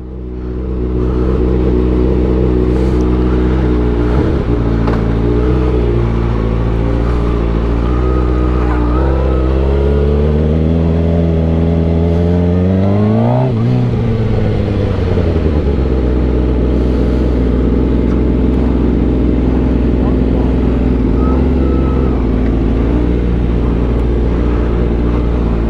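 A motorcycle ridden on a race track during a first track day, its engine droning loud and close, with the pitch climbing and falling through shifts and one sweeping pass of acceleration, steady throughout with no talk.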